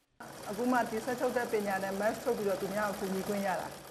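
A sewing machine stitches reusable cloth masks in a steady, rapid mechanical whir with a rhythmic tonal hum, running close and continuous throughout.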